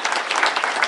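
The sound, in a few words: applause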